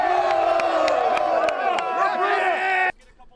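Crowd cheering for the Monarchs after a sports broadcast, a loud burst of whoops and shouting voices with claps mixed in that cuts off abruptly near the end.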